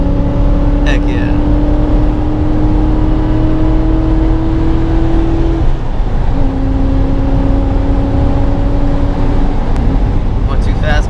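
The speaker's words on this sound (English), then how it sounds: "Alright, I'm at 6, I'm gonna drop it to 4th." A 1995 BMW car engine drones loudly and steadily on a downhill road, its pitch climbing, breaking off briefly as it shifts down to fourth gear, then resuming and rising again.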